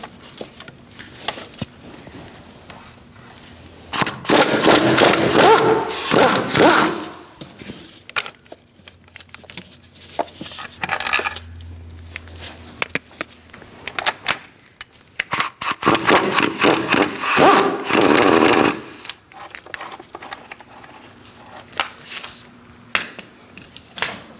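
A 16mm socket wrench on an extension working bolts on a 2000-2006 Mini Cooper, heard as two loud bursts of rapid metallic ratcheting and rattling, each a few seconds long, separated by quieter clinks and handling noise.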